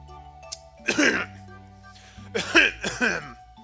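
Two rounds of deliberate throat clearing in the video game Clannad, close and clear over a quiet electronic background hum, the second a pair of quick rasping bursts.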